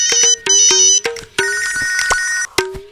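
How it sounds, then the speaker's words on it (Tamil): A mobile phone ringtone plays loudly and close, a bright electronic melody of short repeated tones with brief gaps, in a domestic scene from a Tamil film comedy. "இப்போ போய் ஃபோன் பண்றான் பாரு"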